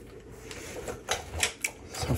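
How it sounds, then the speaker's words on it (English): A size 10 socket wrench tightens a locking nut while mounting a Denali D2 2.0 TriOptic LED light on a BMW F750GS or F850GS motorcycle, giving a series of short, close metallic clicks and ratchet taps. "this locking nut utilizes a size 10 socket. So we'll get that started."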